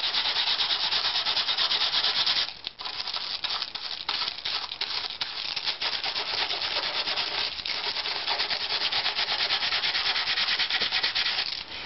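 Steady close-up rubbing of sandpaper at light pressure around the sound holes of a guitar top plate, a continuous dry abrasive hiss broken by a few brief pauses.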